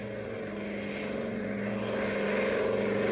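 Propeller airplane droning overhead, a steady, loud engine hum with throbbing low tones that swells slightly as it passes, with no voices.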